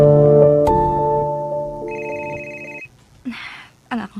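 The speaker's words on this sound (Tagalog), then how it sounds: "Ang akong cellphone." A cellphone rings loudly with a steady repeating electronic tone set against a bright harmonic melody, then cuts off abruptly, after which brief voices and rustling follow in a radio drama scene.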